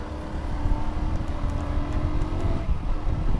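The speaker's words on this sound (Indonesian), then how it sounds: "Oke, mobil lewat." A passing car sweeps by close to a moving Yamaha R15 V2 motorcycle on a road, its steady engine and tyre noise continuous and loud throughout, with no talking.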